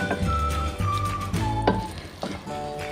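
Spoon scraping and stirring through zarda, a sweet rice dish, in a pot, with soft close clinks and scrapes in an uneven rhythm over a steady background hum.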